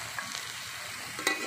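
Diced bottle gourd is stirred with spices in a frying pan, a quiet close sizzle with a couple of light scraping touches during a brief moment of cooking.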